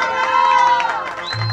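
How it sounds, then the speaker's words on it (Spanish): Children and guests at a birthday party with a youth mariachi band cheer and shout in a lively crowd, a steady burst of voices and whoops lasting throughout, fairly loud and close. "¡Fuerte aplauso!"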